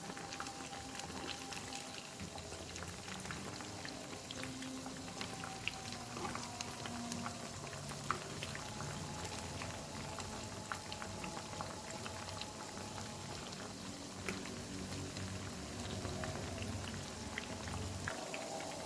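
Hash browns fry in hot oil over medium heat, giving a steady, dense sizzle and crackle throughout with scattered pops, close and continuous with no talking.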